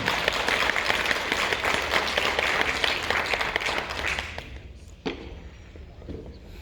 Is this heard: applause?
yes